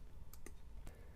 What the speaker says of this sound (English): I'll hit enter on the keyboard